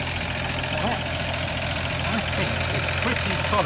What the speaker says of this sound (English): we've got an engine running in the background here